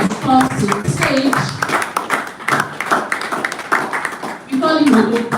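At an agriculture summit, an audience claps as a speaker walks to the stage, the scattered hand claps heard under a person talking over them.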